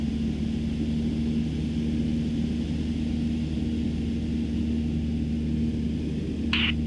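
A Cessna 150 light aircraft on its takeoff roll, heard from inside the cabin as a loud, steady propeller-engine drone with a brief click near the end.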